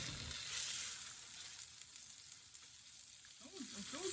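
Turkey cutlets fry in a pan with a steady, close hissing sizzle throughout, joined near the end by a few soft scraping stirs.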